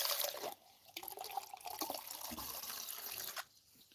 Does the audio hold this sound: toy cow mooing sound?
no